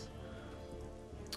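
Rain falling during a fight in the video game TMNT Legends, a faint, steady wash of rain noise with no distinct drops or pauses, no talking.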